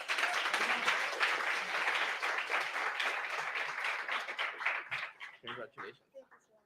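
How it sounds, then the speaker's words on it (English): An audience at a startup pitch event applauds the winners with steady, dense clapping that holds strongly for several seconds, then breaks up into fewer, sparser claps and fades away. "And applause again."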